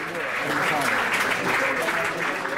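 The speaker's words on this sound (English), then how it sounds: "give him a nice round of applause for his performance here" Applause for a poker player at a World Poker Tour table, a short dense round of clapping from the room with a voice talking over it.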